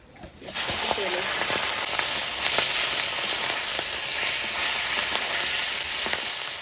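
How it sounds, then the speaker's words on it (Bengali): Hilsa fish frying in oil in a pan, a loud steady sizzle and hiss that starts abruptly and holds throughout, with faint scraping touches. "বাড়তি মাছটাও ওইভাবে আমি ভেজে নেব"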